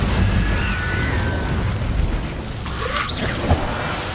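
A fire spell cast in Hogwarts Legacy, a steady rumbling roar with a whooshing burst and a sharp pop near the end.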